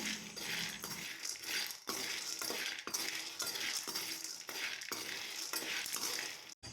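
Field beans (avarekalu) dry-frying in a pan for sambar, with a continuous rustling sizzle and rattle of beans being stirred, broken by a few brief pauses, close and fairly loud.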